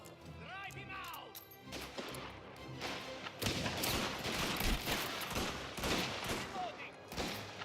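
Gunfire in a shooter video game crackles as dense, continuous bursts and impacts, loud and sustained, with urgent shouting voices over the top.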